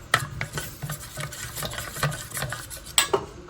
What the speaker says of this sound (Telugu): ఇలా బ్యాటర్ ప్రిపేర్ చేసుకోండి